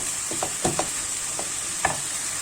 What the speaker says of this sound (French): On laisse mijoter 2 minutes